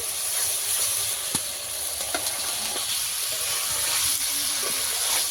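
Masala sizzles steadily in hot oil as fried potato, cauliflower and egg are added, a close, continuous frying hiss broken by small clicks and taps of the spatula.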